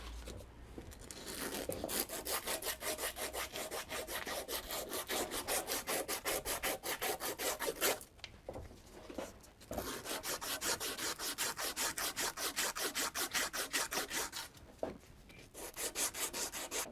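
Emery cloth rubbing back and forth along a stainless steel shaft in a workshop, a steady rapid rasping stroke rhythm running nearly continuously, close and fairly loud, with two brief pauses.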